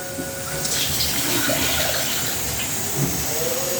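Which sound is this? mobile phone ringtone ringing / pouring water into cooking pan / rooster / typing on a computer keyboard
pouring water into cooking pan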